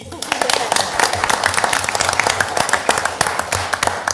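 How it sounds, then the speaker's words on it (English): Sustained applause fills a city council chamber for a retiring police sergeant with 25 years of service, a dense, steady patter of many hands clapping at fairly close range, with some voices mixed in. "That's worth a round of applause."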